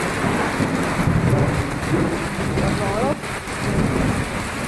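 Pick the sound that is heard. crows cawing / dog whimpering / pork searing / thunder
thunder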